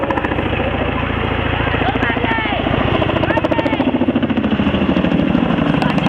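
A Chinook twin-rotor helicopter performs air display manoeuvres at an Armed Forces Day show in Cleethorpes, its loud, constant rapid rotor chop and engine roar filling the scene steadily throughout.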